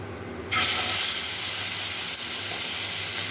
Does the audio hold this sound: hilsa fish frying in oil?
yes